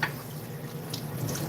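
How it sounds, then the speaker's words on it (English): Tap water runs steadily into a kitchen sink as a cutting board is rinsed, a continuous close splashing hiss with no voices. "Wash off my board."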